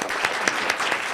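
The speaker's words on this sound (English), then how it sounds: "So why don't we give her a round of applause?" Audience applause after a talk on the physiology and pathology of aging, a steady wash of many hands clapping at moderate volume throughout the short burst, with no speech over it.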